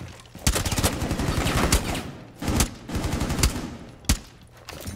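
Light machine gun fire in a first-person shooter game, several loud, close bursts of rapid shots separated by short pauses, with a few isolated single cracks and no talk over them.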